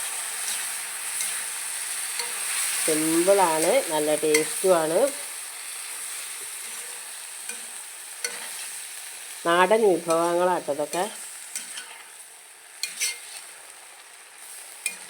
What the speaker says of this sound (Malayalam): നന്നായിട്ട് വരട്ടി പൊരിക്കുക